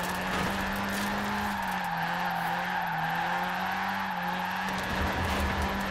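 An underpowered pocket-rocket car held in a sideways drift in Forza Horizon 4, its engine humming at a near-constant low pitch that rises only sluggishly, under steady loud tire squeal throughout.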